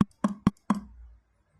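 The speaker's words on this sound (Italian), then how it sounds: "e questo è il suono del martelletto" Four sharp, dry taps of a small acupressure hammer in quick succession, close and fairly soft, with a faint low hum after the last strike.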